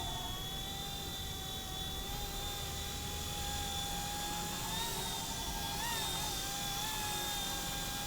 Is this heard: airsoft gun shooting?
no